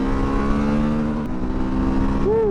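Suzuki V-Strom 1050DE 2023 motorcycle engine revving hard toward redline, a steady loud droning tone that holds high then drops sharply and climbs again near the end.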